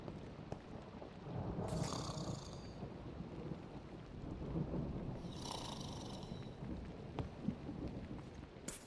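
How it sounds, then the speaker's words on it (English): Thunder rumbling during a thunderstorm, two low rolling swells a few seconds apart over steady rain-like hiss, fairly faint and distant with no one talking. "That sounds like thunder."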